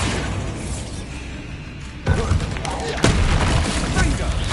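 A Bombarda explosive spell goes off in the Hogwarts Legacy game, two abrupt booming blasts near 2 and 3 seconds lifting a dense, rumbling battle din already full of crackle and noise.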